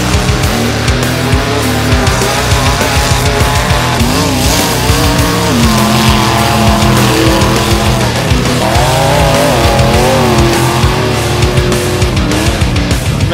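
The KILLSHOT mega truck, powered by a 588 cubic inch big block Chevy engine, roars loudly and continuously, its engine note surging and wavering with throttle changes and no talk.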